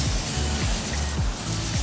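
Steady hiss of a water sprayer rinsing a bike at close range, broad and continuous, with low rumbling underneath.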